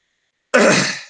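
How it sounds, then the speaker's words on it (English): A single short, close throat clearing after silence, brief and fairly loud, then fading out. "Sorry, just clearing my throat here"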